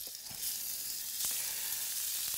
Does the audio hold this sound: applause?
no